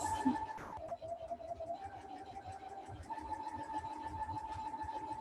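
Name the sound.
sewing machine stitching a simple pillow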